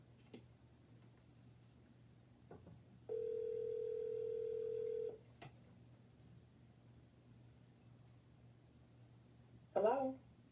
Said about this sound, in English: Let's see if we can get her on the phone.